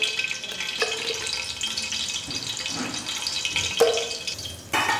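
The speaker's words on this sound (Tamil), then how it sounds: "ஒரு 25 ml அளவுக்கு நெய் ஊற்றிக்கலாம்." Ghee is poured into hot peanut oil in a pot for mutton biryani, a broad steady hiss with a rising sizzling burst as the fat hits, ending in a sharp clink.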